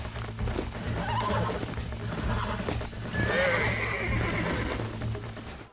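A stallion whinnies loudly over the steady clip-clop of galloping hooves in Red Dead Redemption, with the game soundtrack humming underneath.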